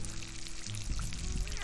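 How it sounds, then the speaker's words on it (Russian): Clear river water pours steadily from a camp washstand at a riverside fishing camp, a close, continuous splashing stream with a faint low hum underneath. "кто у нас хороший-хороший рукомойничек. С кристально чистой хоперской водой."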